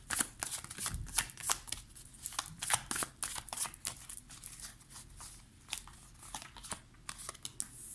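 The Light Seers Tarot cards being shuffled by hand, close crisp riffling and papery slaps in quick irregular bursts, continuous throughout with no talk.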